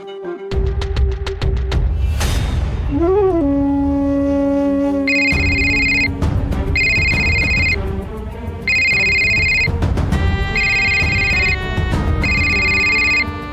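A telephone rings over and over in a home scene, a loud, close electronic ringtone repeating short melodic bursts separated by brief gaps after a few opening tones and a rising chirp.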